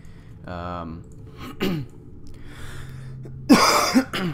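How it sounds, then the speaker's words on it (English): A person coughs and clears their throat a couple of times at close range, with short voiced sounds in between. "I do apologize for the coughing"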